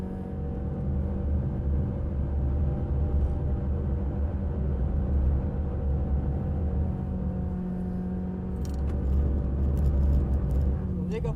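A race car's engine drones steadily and loudly at full speed through a corner, heard from on board as a continuous rumble, with a voice talking over it.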